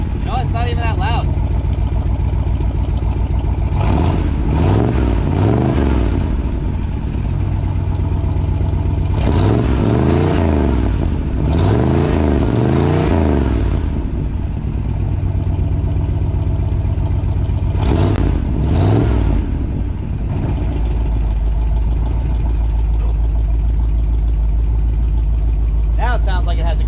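Car engine with newly installed sidepipes on its first test fire, idling with a deep lumpy rumble and several sharp revving bursts, loud and close, with someone talking at points.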